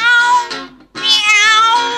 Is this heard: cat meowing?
yes